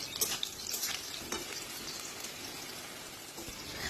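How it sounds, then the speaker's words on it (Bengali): Potatoes fry in hot mustard oil with a dense, even sizzle and occasional stirring scrapes, close up and steady, with nobody speaking. "এবার এই তেলের মধ্যে প্রথমে আলুগুলোকে ভেজে নিতে হবে।"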